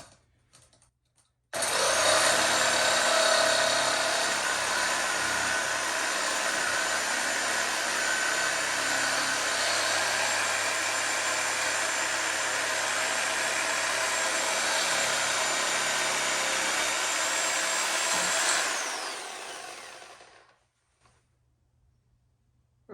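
A power saw blade cuts through tough nylon for a bike trailer build, a loud, sustained high whine that starts abruptly, holds steady for about seventeen seconds, then winds down, heard alone.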